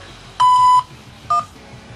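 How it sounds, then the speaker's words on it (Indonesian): An automated phone system tone sounds twice, a steady beep of about half a second followed by a shorter, slightly higher blip, over quiet line hiss. "To repeat, please press 8 or say 8 after the beep."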